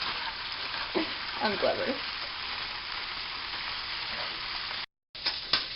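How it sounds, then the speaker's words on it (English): Shrimp frying in a pan for Shrimp Alfredo, giving a steady broadband sizzle with occasional louder snaps and pops, stirred now and then, while a person briefly speaks over it near the end. "you can hear our shrimp over here. It's snapping like crazy."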